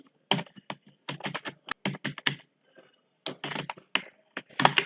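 Typing on a computer keyboard while coding HTML, with quick bursts of crisp, close key clicks separated by short pauses.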